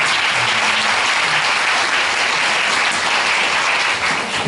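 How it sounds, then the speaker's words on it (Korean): Loud, sustained applause from an audience at a talk event at a university Korean language institute, dense and continuous for several seconds, with faint voices beneath. "다시 한번 박수."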